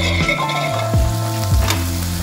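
Steady oily sizzling of garlic and ginger frying in sesame oil in a pan, with a couple of brief stirring scrapes, close and continuous.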